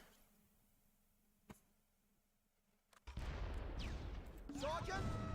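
A loud explosion erupts inside a factory in the Close Combat: Last Stand Arnhem war game, a sudden dense roar after a quieter stretch with a single earlier crack, followed by sustained rumbling blast noise and debris crackle.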